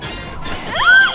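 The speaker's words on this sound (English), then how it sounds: "Oh, I smashed my face off the ground." A game character in Go Vacation slams face-first into the ground after a bungee jump, producing a sharp, loud smash followed by a brief rising-then-falling squeal.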